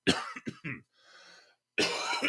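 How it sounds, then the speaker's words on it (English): A few short, harsh coughs in quick succession, close and loud, then a soft throat sound before another burst of coughing. "Gonna cough here in a second."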